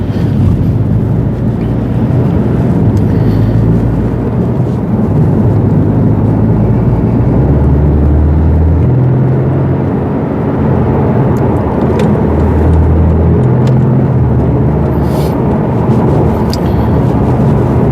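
Porsche 718 Boxster GTS with the 2.5 engine cruising in normal drive mode with the sport exhaust off, a steady low engine drone and rumble heard from the cabin throughout, with slight rises and shifts in pitch.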